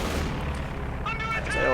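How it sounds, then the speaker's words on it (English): Strafing-run gunfire from a strategy video game rumbles as dense, continuous rattling booms under a voice talking over it. "I'm gonna guess this is a strafing run, and I guess right."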